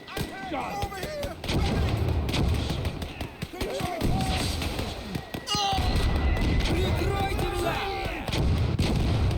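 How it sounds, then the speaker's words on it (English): Mortar and artillery fire in the Army Men World at War video game, repeated heavy thumps and booming shots mixed with battle noise and clattering gunfire, while a voice commentates throughout. "And should be firing its mortars pretty soon now."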